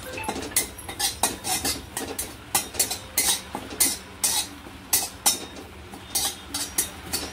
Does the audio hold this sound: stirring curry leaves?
yes